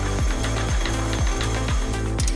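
A LEGO Technic machine running on a motor with a pneumatic cylinder, giving a continuous mechanical drone with a regular rising-and-falling cycle roughly every half second, steady and close.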